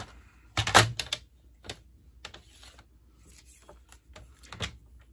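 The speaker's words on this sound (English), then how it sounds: "So we need to trim each of these pieces." Paper trimmer slicing cardstock pieces for a Stampin' Up! diagonal Christmas card, with one loud sharp cut near the start and a few quieter slides and clicks of the blade track, close by with no talk.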